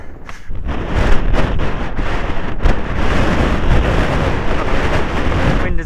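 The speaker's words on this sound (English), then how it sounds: "Wind is blowing the board." Strong Storm Eunice wind blows across a polo arena. A loud, constant roar buffets the microphone and stays dense and unbroken from start to finish.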